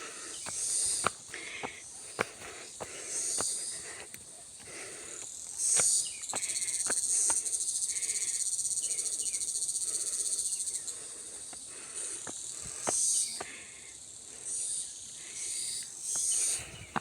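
Steady high-pitched insect chirping fills the air on a hiking trail at Shek O, Hong Kong, swelling and fading in waves, with occasional faint clicks and rustles nearby.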